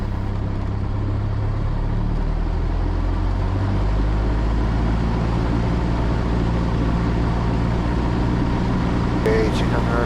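Cessna 172R Skyhawk piston engine held at 1800 RPM during a pre-takeoff run-up, a loud steady droning rumble filling the whole clip with a slight shift in tone partway through, heard from inside the cockpit.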